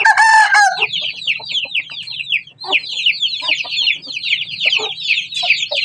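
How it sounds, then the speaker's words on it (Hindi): A village hen clucks loudly and close, opening with a sharp squawk, then a long run of repeated high, rasping clucks in uneven bursts over a low background hum. "ओ बस ये मुर्गी है जी।"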